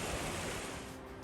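The Arga River at Zubiri rushes in a steady, dense broadband wash, loud and close, with no voices over it.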